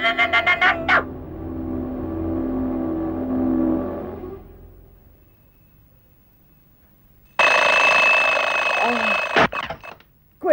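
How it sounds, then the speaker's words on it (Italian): Cartoon alarm clock ringing loudly in a fast metallic clatter that breaks off abruptly, followed by a quieter humming stretch, near silence, and then another loud burst of ringing close up. "Questa maledetta sveglia."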